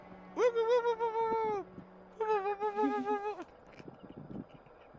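A player at a tabletop role-playing session imitates an elf owl call, making two sustained, wavering, pitched hoots with a short gap between them, close and clear, trailing into faint background noise.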